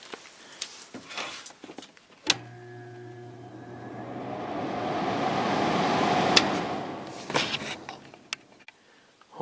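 A Kenmore 5450 BTU window air conditioner with a GE fan motor starts with a click and swells into a rising whoosh of airflow, then settles, with clicks and knocks around it, fairly quiet overall.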